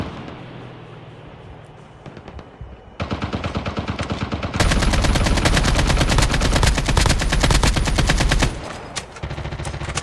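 Gunfire in the mobile shooter Call of Duty Mobile, loud and near: scattered shots give way to sustained automatic bursts that grow denser and louder, then thin out briefly and resume.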